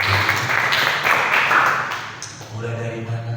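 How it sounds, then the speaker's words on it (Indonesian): An audience at a church service applauds, a dense wash of clapping that carries on steadily, then fades out to a low hum. "Kita berikan tepuk tangan."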